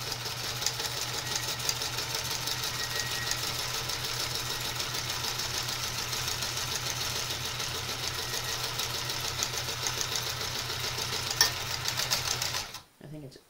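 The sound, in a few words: sewing machine stitching fabric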